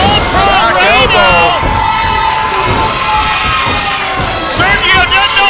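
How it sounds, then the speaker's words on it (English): A wrestling crowd cheers loudly and continuously, with rising shouts and whoops at the start and again near the end. "this crowd's getting behind All-Pro Reyno"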